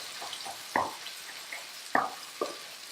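Sirloin steak cooking in a cast iron pan gives a soft, steady sizzle, broken by a few quiet pops and spatters close by.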